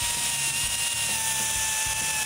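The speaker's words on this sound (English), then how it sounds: "it's time to clean them up a little bit with a flap disc" Flap disc grinding on freshly cut steel pieces for a Chevy S-10 air bag suspension build, a steady high whine with a constant tone and a gritty rumble underneath, close and continuous throughout.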